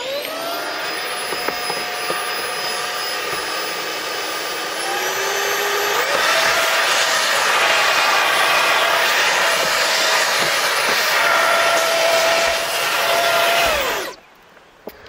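A vacuum cleaner roars steadily and close by for about fourteen seconds, its pitch shifting partway through as it sucks up dust from a BMW E91/E61 rear wiper area, then cuts off abruptly.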